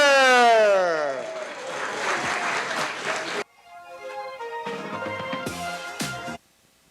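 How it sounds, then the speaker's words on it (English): Audience applause for the Tuolumne Miwoks at a California Legislative Native American Caucus honoring event, a steady crowd clapping that follows a loud tonal sweep, cuts off, then resumes more sparsely with a few louder claps, close and full. "Give them a round of applause"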